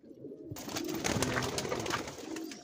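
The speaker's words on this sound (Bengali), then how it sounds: "সবই একই লাইনের পায়রা, সব একই টাইপের পায়রা।" Pigeons of an old Gola bloodline coo softly in a loft. A low, rolling murmur runs under a steady background hiss, and no one speaks.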